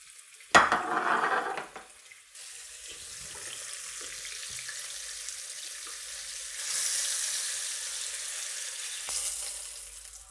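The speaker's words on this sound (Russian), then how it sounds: "обваливаю хорошо в муке и выкладываю на сковороду." Flour-coated fish pieces sizzle as they are laid into a pan of sunflower oil, a sharp burst of frying at the start settling into steady hissing that swells again later, moderately close with faint handling clatter.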